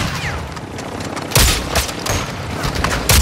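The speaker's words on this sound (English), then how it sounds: "I'm taking rounds from somewhere" Dense gunfire and incoming rounds crack and pop in a shooter video game, loud and chaotic, with a couple of sharp heavier impacts standing out from the constant battle noise.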